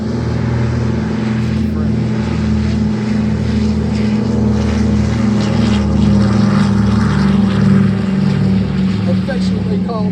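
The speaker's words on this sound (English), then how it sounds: "This DC-3 C-47 still in operation in some parts of the world today." A CAF C-47 (DC-3) named "That's All Brother" flies past at a Midland, Texas airshow, its piston engines and propellers droning loudly and steadily for the whole stretch with a slight swell.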